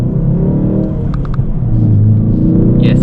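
A 2022 Ford Focus ST MK4.5 facelift revving hard, the engine and exhaust roaring up through a rising pitch with a deep, loud, close drone throughout, no talking.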